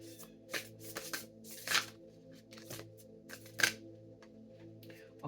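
Tarot cards are shuffled and pulled in a quiet room, a series of soft riffling and snapping bursts at an irregular pace over a faint background tone of music.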